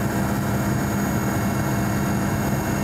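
A helicopter engine and rotor drone steadily and loudly in the Nenets tundra on the approach to the settlement of Karatayka, an even, unbroken roar heard up close with no voices.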